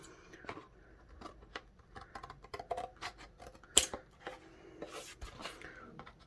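Scissors trimming cardboard for a homemade hat block built around a plate, heard as a series of close, crisp snips and rubs at an uneven pace, with no talking.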